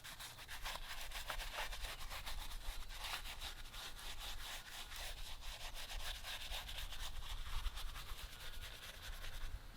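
A brush scrubs a car tire coated in tire cleaner, a continuous rapid back-and-forth rubbing with a bristly hiss, close and steady throughout with no speech.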